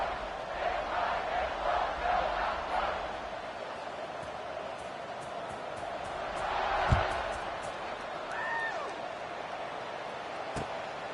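A football stadium crowd keeps up a broad, distant roar of cheering beneath a commentator's play-by-play, swelling slightly around a kickoff.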